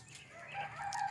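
A country chicken rooster crows faintly and at a distance in the early morning, a thin drawn-out call over a quiet yard at feeding time.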